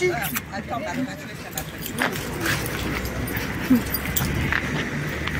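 Puppies whimper and yip faintly beneath people talking, with some jingling nearby.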